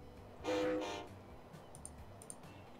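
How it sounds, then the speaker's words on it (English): A loud train horn in the railway game Transport Fever blasts for about half a second. Lighter clicks and the running of goods trains follow. "let the trains get moving."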